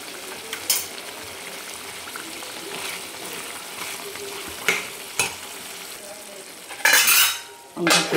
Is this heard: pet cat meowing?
no